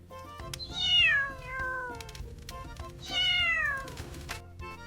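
A cat meows twice, long drawn-out rising and falling cries a couple of seconds apart, clear and close over a low background hum.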